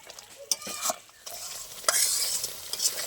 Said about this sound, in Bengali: আর একটু ভালো করে কষিয়ে নেবো মশলাটা